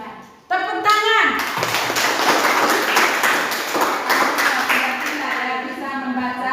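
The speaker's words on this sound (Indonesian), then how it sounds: "Tepuk tangan." Hands clap together in a classroom, a dense burst of many people applauding that starts abruptly and continues steadily for several seconds, with a voice speaking over it at the start and end.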